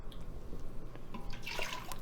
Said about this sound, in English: Pour 1 cup water into your Instant Pot.